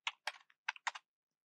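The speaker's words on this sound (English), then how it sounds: "now type ADB" Quick keystrokes on a computer keyboard, about six close, crisp taps in a short burst, then silence.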